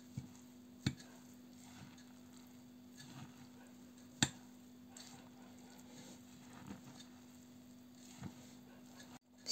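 A spoon stirs vegetable pie batter made with semolina and baking powder in a bowl, giving faint, rhythmic scrapes and light taps roughly once a second over a low steady hum.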